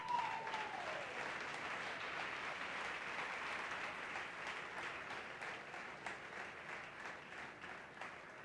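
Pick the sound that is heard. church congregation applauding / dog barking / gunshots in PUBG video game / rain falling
church congregation applauding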